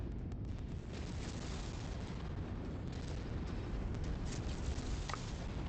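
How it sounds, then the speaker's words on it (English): Missile explosions in the modded video game MechWarrior 5: Mercenaries, heard as a steady, distant rumbling roar of blasts with faint crackling impacts running throughout. "It's good to see the archer throwing missiles at it."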